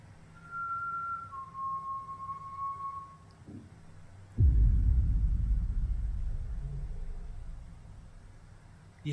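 Two short, thin whistle tones sound in an abandoned house, one after the other, followed by a loud low rumble and thud that dies away slowly.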